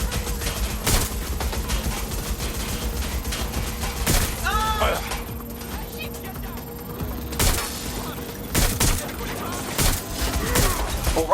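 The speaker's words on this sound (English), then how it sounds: "Suspect shooting!" Gunfire in a shootout in the Watch Dogs Legion video game: several loud, sharp bursts of shots in irregular clusters over a steady background hum, with a voice calling out briefly.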